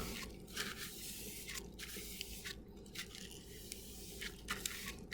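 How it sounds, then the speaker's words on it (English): A damp paper towel wetted with deionized water is wiped across a lab bench, making continuous soft wet rubbing and squishing strokes with brief louder swipes, close and alone without talk. "So I'll just use a little DI water and wipe it down."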